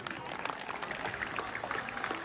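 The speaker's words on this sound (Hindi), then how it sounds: "तो आप चाहें तो मेरे लिए आप जोरदार तालियां बजा सकते हैं" Audience applause after a motivational speech at a government senior secondary school in Bambore, heard as a steady wash of many hands clapping, fairly faint but even throughout.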